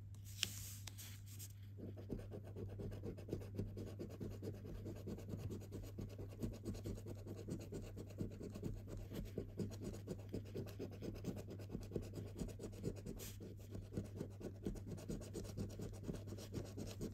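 A coin or scraper rubs steadily across FDJ scratch-card lottery tickets, a close, continuous rapid scratching with a fine rhythmic grain that runs for many seconds under a low steady hum, with no talking.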